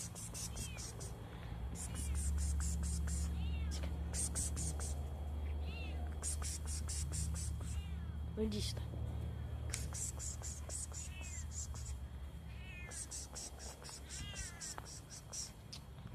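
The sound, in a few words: cat meowing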